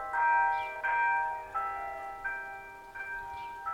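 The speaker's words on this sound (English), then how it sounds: "And that's the church bell." Church bell in a Portuguese village near Peneda-Gerês National Park, ringing in a steady series of resonant strokes roughly every 0.7 seconds. Each strike overlaps the ringing tail of the one before, and there is no speech.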